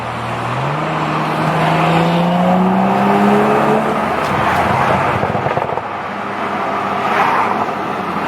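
A BMW F32 with a straight-pipe exhaust and Vibrant resonator roars loudly as it revs up through rising engine tones, then holds a rough, raspy drone with crackling burbles, close and continuous.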